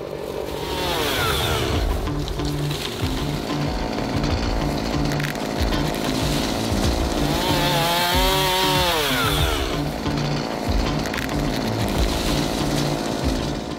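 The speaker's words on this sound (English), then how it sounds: "So what we look for when we're in here doing some hinge cutting, we'd like to find the area where we can actually get the tree to hinge good." A chainsaw cuts into trees in Missouri woodland while hinge cutting for deer habitat. It roars loud and close without pause, with its pitch rising and falling as the blade bites into the wood.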